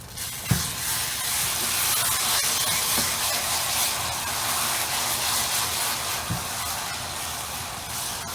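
Softened onions caramelize with a few spoonfuls of honey in a pan for couscous, producing a loud, steady hiss and sizzle with faint pops throughout and no voices.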